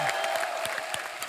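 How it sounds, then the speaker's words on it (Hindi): Studio audience clapping on a TV comedy show, a steady wash of applause through the whole short stretch, even in level with scattered sharper hand claps and no voices. "जोरदार तालियां हो"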